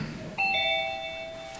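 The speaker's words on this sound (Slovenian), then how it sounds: "Janez, neko zvoni!" A doorbell chimes once with a clear two-tone electronic ding-dong, close and fairly loud, ringing out and decaying over about a second with no talk over it.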